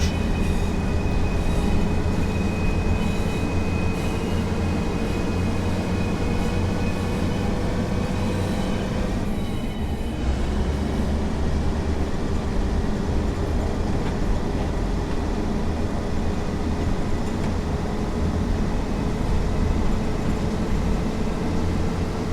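Steady loud rumble of a train running on rails in Train Sim World 5 on the Blackpool Branches route, with a long pitch glide as it brakes into a station, no voices.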